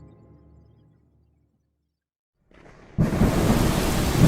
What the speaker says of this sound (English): And it is raining